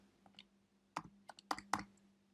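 Quiet bursts of computer keyboard typing, a few isolated clicks followed by quicker clusters of keystrokes, heard up close in an otherwise quiet room.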